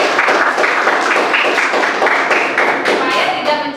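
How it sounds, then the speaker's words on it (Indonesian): Children clap together in a classroom for a classmate during a lesson about waste and the environment, a loud, dense patter of small hands in uneven pulses, with voices mixed in. "Benar, Aulia dan Kenza, tepuk tangan dulu buat Aulia."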